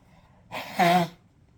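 A short, forceful nose blow, a quick two-part rush of air lasting under a second, close and fairly loud, with quiet around it.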